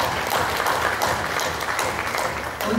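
Audience applause at a literary discussion event, dense and steady clapping from a room full of people that holds throughout before easing slightly at the end.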